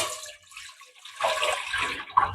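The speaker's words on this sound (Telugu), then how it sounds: "ఇందులోకి మనం తీసుకున్న రైస్కి తగినట్టు వాటర్ యాడ్ చేస్తున్నాను" Water pours and splashes into a bowl inside a rice cooker, a brief gush that pauses and then resumes more strongly, close by with no talking.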